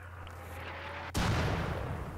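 Mortar fire in the video game Rimworld: a sudden, loud blast cuts in after a steady low hum and rolls on as a dense, heavy rumble to the end.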